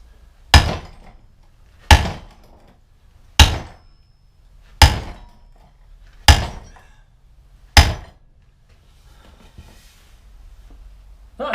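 Big hammer striking 10mm thick steel during a Kubota backhoe rework, six loud, sharp metallic blows at roughly even intervals of about one and a half seconds, each ringing briefly before fading.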